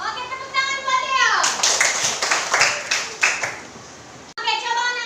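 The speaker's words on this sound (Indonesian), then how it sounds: "tepuk tangan" Classroom children clapping together for a classmate, a burst of fast, loud, overlapping handclaps lasting about three seconds, with a child's and a teacher's voices before and after.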